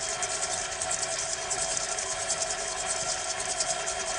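A food processor whirs a cheesecake base of biscuit crumbs and butter, giving a loud, continuous motor drone with a high buzzing edge that stays constant throughout, with no voices.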